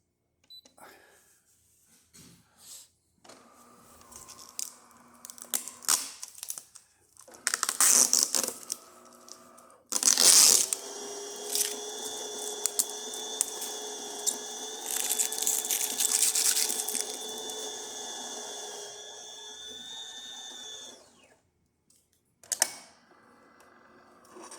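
A freshly descaled and serviced DeLonghi espresso machine brews a shot: mechanical clicks and whirring bursts, a sustained pump hum with tonal whine lasting several seconds, then quiet, with a final clunk.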